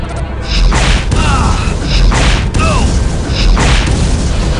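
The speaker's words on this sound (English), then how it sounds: "So let's use the plasma cannon since that has, you know, somewhat infinite ammo." Plasma cannon firing in Aliens vs Predator 2, with several heavy booming blasts spaced about a second apart, each trailed by a short whistling whine, loud and close.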